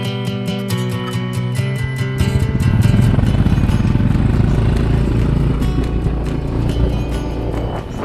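A motorcycle rides through coconut fields in the Mekong area of Vietnam, its engine rising from a start into a loud, close, steady drone with occasional rustling and knocks over a background of music.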